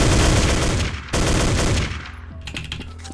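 A Galil rifle firing in a homemade Godot game: a loud, close stream of rapid automatic shots that breaks off briefly and then trails into a few sparser bursts.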